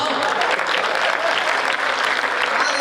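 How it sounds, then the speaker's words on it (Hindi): Dense, steady audience applause at a Hindi comedy poetry gathering, loud and continuous throughout with no voices standing out. "करो तालियां बजाओ"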